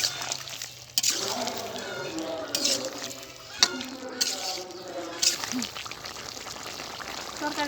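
Fish broth goes into a wax gourd and mirka fish curry cooking in a pan, with a steady sizzle and bubbling under continuous close talking and a couple of sharp clinks.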